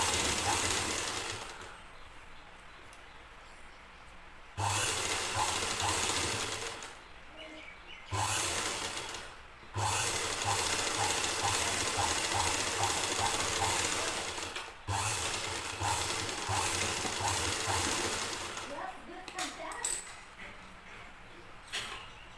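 A sewing machine stitches a blouse sleeve in steady bursts of loud, rapid mechanical whirring. Several short pauses break the runs, and faint chirps sound in the background.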